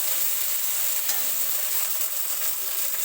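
Steady, loud sizzle of ginger paste frying in oil crackles continuously close by, with no speech over it.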